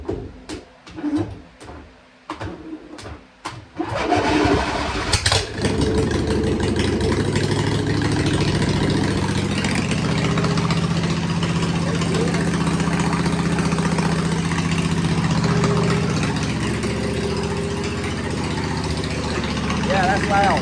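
A big-block engine on a log splitter cranks a few times, catches with a burst, then settles into a loud, steady rumbling idle close by, with someone talking over it.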